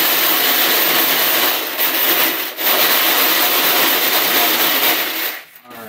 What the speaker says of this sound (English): I'm going to swirl them around a bit,